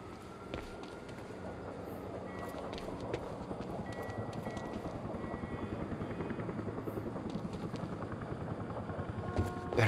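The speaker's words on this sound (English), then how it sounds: "Better get inside before the chopper spots me." A helicopter flies overhead in the video game Quantum Break, a faint but continuous rhythmic rotor thumping that carries evenly for about ten seconds and swells slightly toward the end, with no talk.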